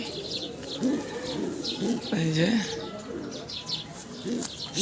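White racer pigeons coo in several rising and falling calls while someone speaks nearby, with a few higher chirps mixed in.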